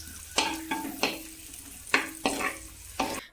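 Onions being stirred in hot oil in a pan while preparing crab curry, with about six scraping strokes of the spoon over a steady soft sizzle, close and moderately loud with no talk.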